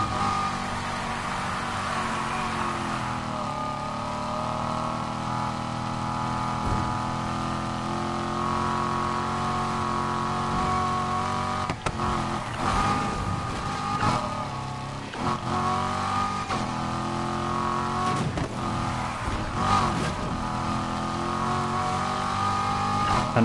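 Nissan GT-R fitted with a swapped LS V8 engine driving in Need for Speed Heat, a steady loud engine drone with harmonic tones that shift through gear changes and revs, continuous and close throughout.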